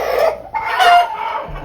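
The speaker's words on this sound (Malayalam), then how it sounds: "ആരോഗ്യമുള്ള കോഴി." A healthy, roughly four-kilogram farm-fed chicken clucks loudly up close in two or three sharp bursts, heard alone without talk.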